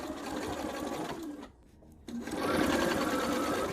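Sewing machine stitching binding on a potholder, a steady rapid whir that stops briefly for about half a second, then resumes slightly louder.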